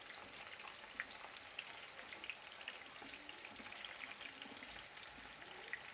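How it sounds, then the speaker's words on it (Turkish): Mushrooms frying in a pan for stuffed mushrooms with béchamel, giving a steady, faint, even sizzle with small crackling pops throughout and no one talking. "Mantarlarımızı kızartıyoruz."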